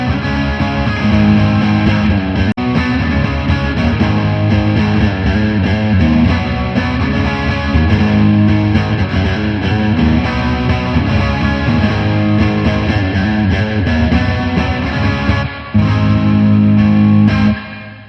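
Squier Jazzmaster electric guitar plays steady chords and riffs through an amp's built-in Ibanez Tube Screamer overdrive, with EQ and reverb pedals adding a bright, distorted, sustained tone that stays loud throughout.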